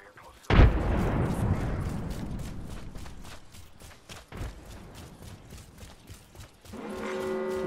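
A frag grenade in Apex Legends goes off in one sudden, loud blast whose rumble decays over several seconds, followed by softer game sounds and a tonal chime near the end.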